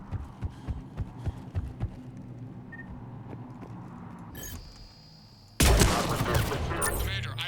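Gunfire in the video game Mass Effect 3 starts as a run of muffled, evenly spaced thuds, goes briefly quiet, then breaks into a loud, dense burst of combat noise.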